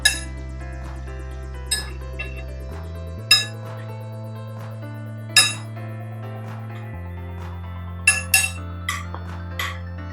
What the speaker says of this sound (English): And then mix the marinade